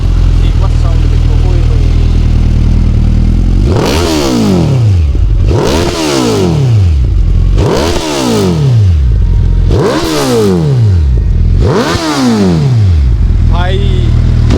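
A loud Suzuki Hayabusa motorcycle engine idles with a deep rumble, then is revved five times in evenly spaced bursts, each climbing and falling back to idle.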